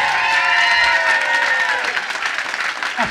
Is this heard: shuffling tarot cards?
no